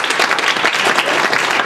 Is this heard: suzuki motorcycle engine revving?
no